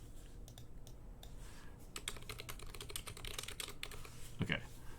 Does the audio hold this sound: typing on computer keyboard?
yes